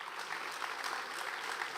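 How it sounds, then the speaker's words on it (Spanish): An audience at a talk claps in brief, moderately faint applause, an even wash of hand claps throughout. "Un aplauso, por favor."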